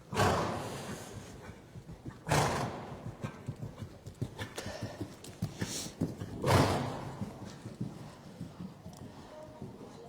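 A horse canters around an indoor riding arena, its hooves beating a steady rolling rhythm with a couple of louder thuds, moderately close, and no voices over it.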